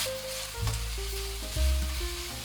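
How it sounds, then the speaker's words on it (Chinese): A prepared sauce hits hot oil with minced ginger and garlic in a wok and sizzles loudly and steadily, with a low stirring rumble and faint tonal hum behind it. "加入一点食用油，加入姜蒜末，稍加翻炒"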